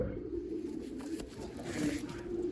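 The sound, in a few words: pigeon cooing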